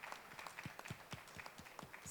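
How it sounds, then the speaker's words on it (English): Scattered hand clapping from an audience at a design event, fairly faint and uneven, a small group of distinct claps over a couple of seconds. "I think we can have a round of applause for Vatas sir."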